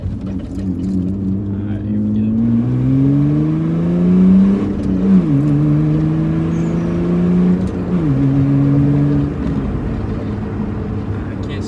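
A 2003 Mitsubishi Eclipse pulls hard in second gear, its engine note rising steadily in pitch as it revs up, dipping briefly at a shift, then climbing again, loud and close throughout.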